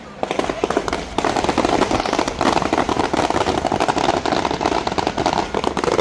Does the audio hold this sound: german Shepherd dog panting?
no